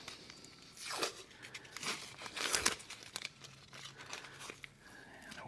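Tape is peeled off a casting mold for open-back parts in a few close, crinkly tearing pulls with brief pauses between them, and no one speaks.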